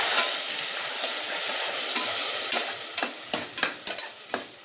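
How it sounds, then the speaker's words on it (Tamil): Mutton biryani masala being stirred in a pan over a low flame for Dindigul Thalappakatti-style biryani: a steady oily sizzle with repeated scraping strokes that grow sharper and more distinct toward the end, with no talking. "இப்போ நெக்ஸ்ட்டு நம்ம கொஞ்சம் கலக்கிக்கலாம்."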